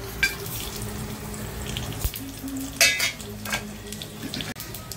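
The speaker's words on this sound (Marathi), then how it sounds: "तेलामध्ये आपण खडा मसाला घालून घेऊया।" Oil sizzles softly in a pan, with a few sharp crackles and pops as whole spices fry.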